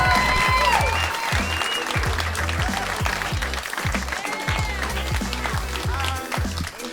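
Loud applause and cheering from a stand-up comedy audience as a comedian takes the stage, while a steady bass-heavy walk-on music beat pounds underneath throughout.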